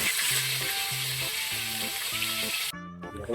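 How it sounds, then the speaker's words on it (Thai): Mackerel frying in hot oil, a continuous loud sizzle and crackle that cuts off abruptly near the end, with a steady tonal hum in the background. "เริ่มจากทอดปลาทูครับผม"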